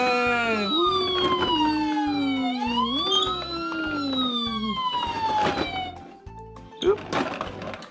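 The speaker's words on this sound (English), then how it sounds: "The ambulance. Ambulance, huh?" A toy ambulance siren wails in rising and falling electronic sweeps over a pulsing beat, loud and close, then cuts out into clatter and brief play noises near the end.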